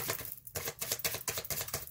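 A deck of tarot cards is shuffled up close, producing a rapid, dense run of papery riffling bursts with brief pauses between them.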